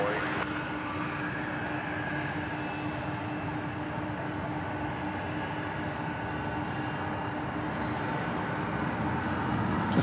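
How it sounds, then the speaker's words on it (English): An MD-11 departing DFW Airport at night gives off a steady, distant broadband jet roar that holds at an even level throughout, with no other distinct sounds. "There's our first MD-11 of the night going out"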